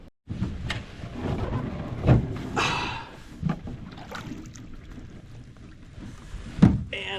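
A canoe sets off on the Mississippi River in Wisconsin with low rumbling wind and water noise, hollow hull bumps and scattered thuds close to the microphone.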